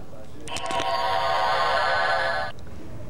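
A shimmering, sustained electronic Star Trek transporter beaming tone swells in after a few clicks, holds steady with rich layered harmonics for about two seconds, then cuts off.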